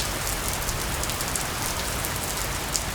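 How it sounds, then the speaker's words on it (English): Steady rain falls continuously over several seconds, a dense, even hiss of drops striking surfaces with no voices. "it's been raining for several days now"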